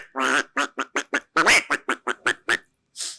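A man mimics a duck, letting out a rapid string of about a dozen nasal, raspy quacks in a steady rhythm, close and loud, then a final breathy burst after a short pause.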